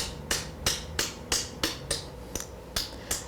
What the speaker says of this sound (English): if I just let the hammer kind of fall in there